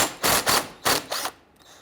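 A ratchet and socket loosening a 10mm bolt on the AC condenser of a 1999-2004 Jeep Grand Cherokee, heard as short bursts of close, rapid clicking separated by brief pauses.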